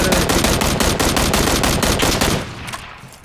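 Rapid automatic gunfire in PUBG: Battlegrounds, a loud, dense burst of evenly spaced shots lasting about two and a half seconds before cutting off and trailing into quieter game ambience.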